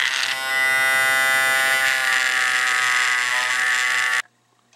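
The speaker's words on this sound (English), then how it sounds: "I use a clean polishing wheel to try and take off whatever's left there" Rotary tool spinning a clean polishing wheel against a Lionel passenger car truck part, a loud, steady high-pitched electric whine lasting about four seconds before cutting off abruptly, with no talking.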